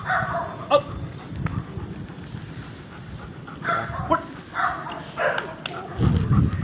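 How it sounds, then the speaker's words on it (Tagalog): A German Shepherd barks during an obedience training session, giving a few short, separated barks over a low, busy outdoor background. "Maamon German Shepherd."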